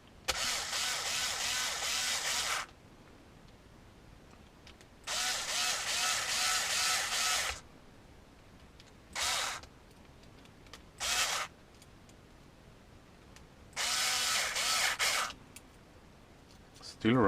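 A power drill drives screws into a WPL C44KM axle in five separate whirring bursts, three long and two short, loud and close, with quiet pauses between them.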